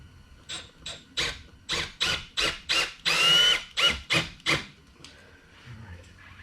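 An M12 drill driver spins screws into a wall, missing the stud, in a rhythmic series of about ten short whirring bursts of rising motor pitch, close and fairly loud, with one longer run in the middle.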